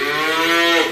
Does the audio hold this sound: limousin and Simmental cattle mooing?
yes